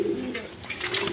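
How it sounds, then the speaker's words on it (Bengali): Pigeons of the Rasgolla breed, a red-coloured pair, cooing steadily and close by, with soft repeated throaty coos and no talk. "দর্শকবৃন্দ এখানে আরেক পেয়ার রাসগোল্লা কবুতর আছে"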